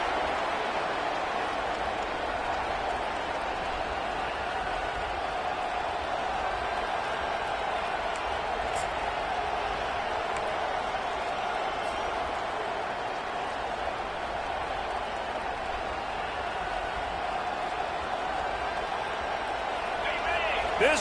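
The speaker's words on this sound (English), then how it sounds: "This crowd bringing the energy and noise early" Stadium crowd in the College Football 25 video game roars as a steady, broad wash of noise, with a commentator talking over it.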